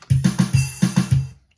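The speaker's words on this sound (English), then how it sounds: "we need to put a crash in there" Programmed GarageBand drum pattern with a crash cymbal: a quick run of about seven punchy low hits under a bright, sustained cymbal wash, stopping abruptly after a second and a half.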